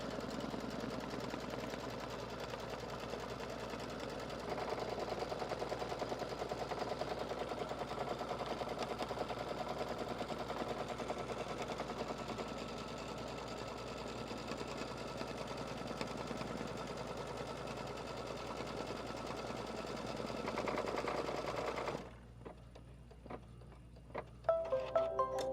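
A sewing machine stitches backing fabric onto a quilting hoop, a soft continuous whirring with fine rapid ticking that runs steadily before stopping near the end, followed by a few faint clicks.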